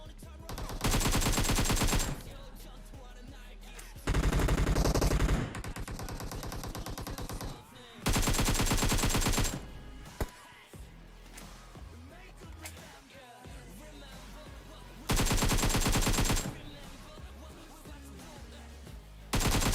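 Long, loud bursts of rapid automatic gunfire from the BGMI mobile battle royale game, several sustained volleys separated by short lulls, with muffled game sounds and faint talk in between.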